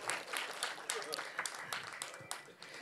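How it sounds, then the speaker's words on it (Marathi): Audience applause at an autobiography book launch, a brief round of scattered clapping from a seated crowd, moderately loud and even throughout. "एकदा अभिषेकसाठी टाळ्या वाजूया"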